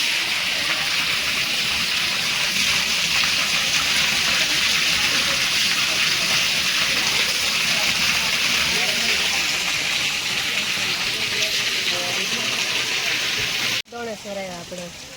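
Water flows and gushes continuously at Doneshwar temple, a loud, close rushing sound throughout that drops away abruptly near the end, with people talking over it.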